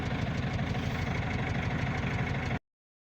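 A Cummins ISF 2.8 diesel in a GAZelle van idles with a rough, rhythmic knock, loud and close and steady for over two seconds before cutting off abruptly.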